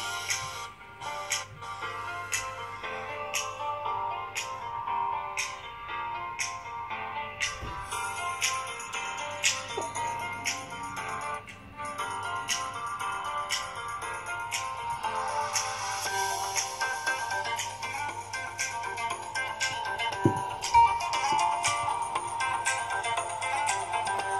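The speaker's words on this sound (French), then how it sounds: "On écoute maintenant le haut-parleur." A ringtone plays through the loudspeaker of a Meizu M8C phone, a long melodic electronic tune of plucked, ticking notes that grows fuller and busier toward the end.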